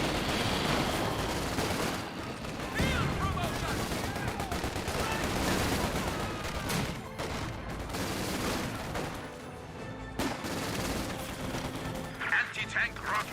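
Gunfire in Company of Heroes 2 as a Volkswagen vehicle fires at recovery sappers: dense rattling bursts and shots mixed with battle noise, with a commentator talking over it.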